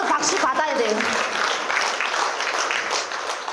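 Audience applause at a talk show, a dense wash of clapping from a crowd, steady and fairly loud throughout, with voices mixed in underneath.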